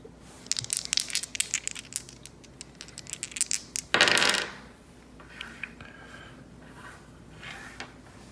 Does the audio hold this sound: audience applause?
no